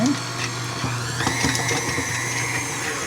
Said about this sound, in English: cream cheese in our mixer and we're going to start it off